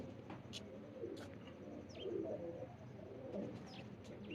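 Rampuri pigeons coo softly in low, rolling phrases, joined by scattered chirps and a few sharp bird calls, fairly close but faint against quiet room noise.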